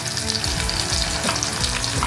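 Ground masala paste frying in hot oil in a kadhai for zanjanit shev bhaji, a steady close sizzle with stirring scrapes running throughout and no voices.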